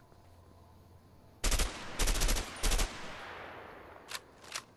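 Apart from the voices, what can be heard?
M60 burst-fire gunfire in video game A Way Out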